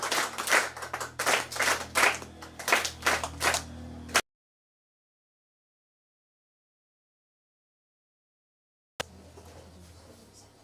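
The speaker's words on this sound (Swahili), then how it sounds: "Tupige makofi" A church congregation claps in a quick burst of rhythmic applause for about four seconds, then sudden silence, then faint room noise returns.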